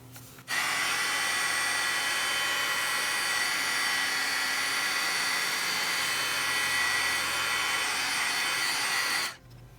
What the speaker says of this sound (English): Now we're going to take this piece and we're going to heat emboss it.